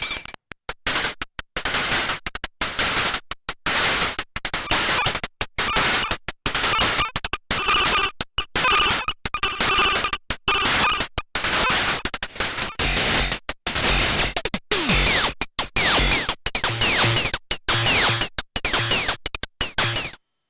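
Modular synth interstellar radio module with its output patched back into its input, producing loud, dense crackling feedback noise that stutters in rapid bursts with frequent brief dropouts, harsh and broadband throughout.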